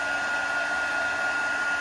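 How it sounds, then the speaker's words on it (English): An embossing heat tool blows hot air in a steady, even whoosh with a constant whining tone, held close and unbroken throughout. "So let's set that with the heat tool."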